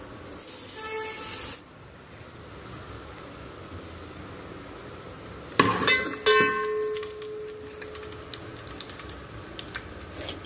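Bay leaf, whole spices and cumin seeds hit hot oil in a pan, giving a loud hissing sizzle that cuts off abruptly, then a second burst of crackling spatter that settles into quieter, steady frying.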